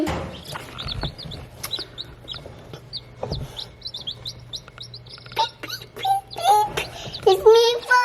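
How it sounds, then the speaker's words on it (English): High, thin chirps from many small chicks cheep rapidly and overlap, close by, with a few louder calls and soft rustling toward the end. "Hello, chickens."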